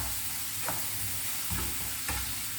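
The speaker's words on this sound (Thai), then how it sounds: "เดี๋ยวผัดให้หอมแป๊บนึง แล้วก็ค่อยใส่ผักครับ" Aromatic curry paste stir-fried in a pan for a mushroom and eggplant curry, a steady sizzle broken by a few scraping stirs, close and alone with no talk.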